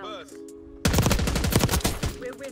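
Rapid automatic bursts from a GPR 91 assault rifle in Black Ops 6 multiplayer, loud and close, following a short quiet stretch with faint game tones, shots fired in a dense rattling string.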